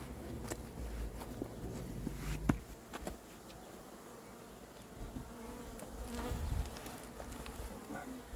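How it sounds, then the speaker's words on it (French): A recently settled honeybee swarm buzzes in a low, steady drone, with scattered knocks and handling noises nearby. Bees pass near and away as the buzzing rises and falls. "nos chères abeilles"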